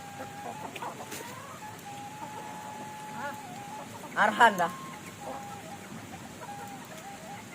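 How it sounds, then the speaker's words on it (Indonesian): A chicken clucks in a short, quick burst midway through, amid quiet background noise, a faint steady tone, and brief speech. "Kita digangguin sama ayam."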